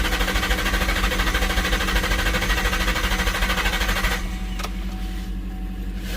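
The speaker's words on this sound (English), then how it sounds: "it's cranking at least." A 2000 Ford Mustang GT with its exhaust open cranks in a loud, fast, steady rhythmic chugging for about four seconds, then the churning drops away to a quieter hum.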